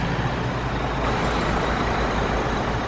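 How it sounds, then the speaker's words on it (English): Heavy diesel engine of a construction grader, a road machine with a long leveling blade, idling in a kids' construction vehicle app; a steady, dense low rumble runs continuously throughout with no talking. "This is a grater."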